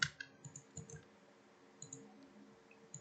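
Mouse clicks during a Minecraft session: a few sharp, fairly faint clicks at the start, then sparse isolated clicks spread over a quiet background.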